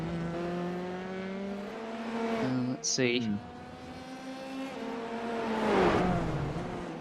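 A high-revving F3 race car engine in the iRacing sim at Interlagos, steady and sustained with a brief drop in the middle, under a short spoken remark.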